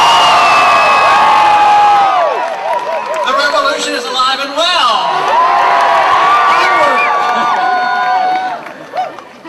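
A large rally crowd at a political event in Chico, California cheers, whoops and shouts loudly and continuously, with a speaker's voice heard over the noise.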